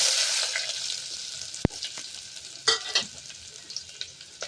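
Red chili and bay leaf frying in hot oil for jeera rice, a soft steady sizzle with a few sharp crackles and pops, including one crisp snap, close by with no voices.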